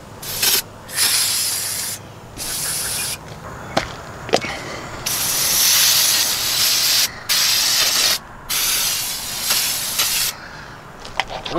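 Degreaser sprays in repeated bursts onto a VW Type-3 engine with loose cylinder heads, loud close hissing blasts of a second or two each, separated by short pauses and a couple of sharp clicks.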